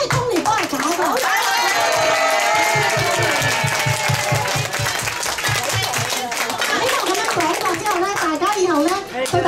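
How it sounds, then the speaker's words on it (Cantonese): Applause at a Christmas party: a room of people claps steadily for several seconds, a dense rhythmic patter close by, while a voice talks over it and a few children's voices and cheers rise from the crowd. "我哋都要俾啲掌聲"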